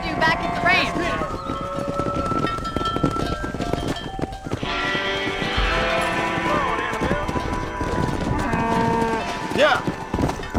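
Cattle low amid a herd in the Red Dead Redemption video game, with hoofbeats and game music filling a busy mix, and voices talking over the animals throughout.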